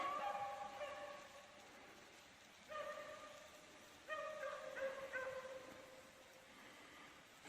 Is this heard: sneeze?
no